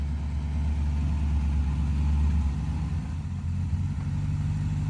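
A hot rod engine with no brakes runs in gear at a steady idle-like RPM, a deep continuous rumble close by with no talk over it.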